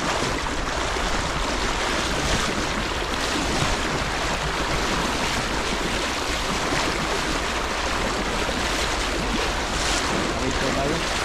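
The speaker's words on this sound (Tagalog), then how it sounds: "Medyo malakas ang agos dito sa banda." Strong river current rushing steadily along a riverbank on the way to a giant tilapia spot, a dense continuous roar of water with some wind buffeting the microphone and no pauses.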